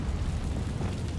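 A Confringo fire spell blasts in Hogwarts Legacy, a dense low roaring burst that rumbles steadily and loudly for just over a second.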